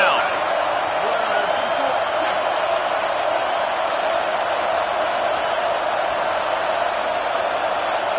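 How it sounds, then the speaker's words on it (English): Stadium crowd noise from a college football video game, a steady loud roar of massed voices that builds on a defensive third down and fills the whole stretch without letup. "Decibels rising as the crowd gets behind this defense on 3rd down."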